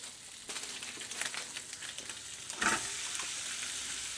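Olde English farmhouse pork sausages sizzle in a pan, a steady fizzing crackle with a few scraping stirs, fairly quiet and close, with no talk.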